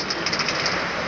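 Minecart rolling slowly along a train track in Minecraft, a steady close rattling clatter with faint periodic clicks and no talk.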